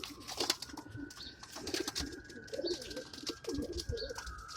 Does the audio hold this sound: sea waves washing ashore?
no